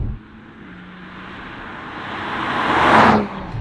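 BMW M340i Touring in Peridot Green Metallic cruising at 60 mph around 1200 rpm: a steady road and engine rush that swells to a loud peak as the car nears, then drops away quickly.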